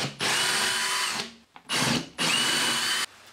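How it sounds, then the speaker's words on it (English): A power drill with a 10mm bit whirs in three short bursts, loud and close, with brief pauses between runs as the bit bites into plasterboard. "I'm now just going to drill through there using a 10mm drill bit."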